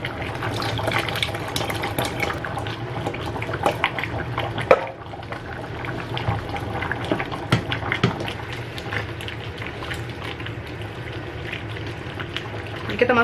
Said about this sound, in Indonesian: Kita masukin santan.